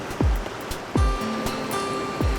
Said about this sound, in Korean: 유기물과 플랑크톤을 머금고 밀려오는 파도